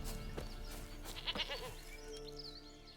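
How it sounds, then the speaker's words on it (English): A goat bleats in The Witcher 3 game world: several wavering, nasal bleats over a steady layer of game ambience and music, with no talk. "Here, goat."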